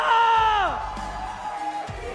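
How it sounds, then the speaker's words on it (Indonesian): Crowd cheering and whooping at MPL Arena during a Mobile Legends esports match, with a loud yell that falls off into a steady roar of fans under a voice. "Mana tepuk tangannya?"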